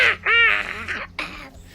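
A voice imitates a primal shriek in a jungle, a loud, strained cry with rising harmonic tones lasting about a second, followed by a shorter, rougher burst.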